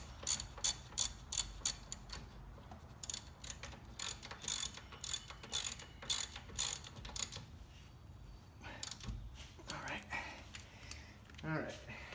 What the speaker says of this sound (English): We're gonna just see how close I was with my torque wrench.